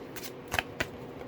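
Tarot cards are shuffled in short riffling bursts, a few quick close card flutters over a quiet background with no talking.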